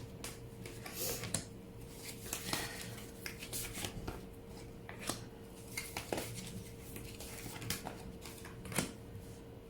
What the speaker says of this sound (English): While I am shuffling the cards here, setting up the reading